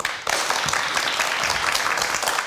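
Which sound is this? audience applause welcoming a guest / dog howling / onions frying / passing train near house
audience applause welcoming a guest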